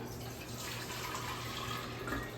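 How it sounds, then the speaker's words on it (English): Homemade apple cider vinegar pours steadily back into a jar, a continuous close trickle and splash of liquid running for a couple of seconds with no talking. "We're gonna pour it back into the jar."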